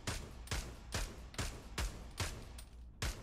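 Gunshots in a VR shooting game played on a Pimax Crystal headset, fired at a target 40 meters away: seven sharp booming shots at a steady pace of about two per second, each followed by a short decaying tail.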